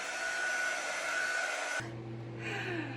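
Steady whooshing roar of a hair dryer blowing on a small chalk-painted board, loud and close, shifting in tone partway through as the airflow changes or the dryer moves.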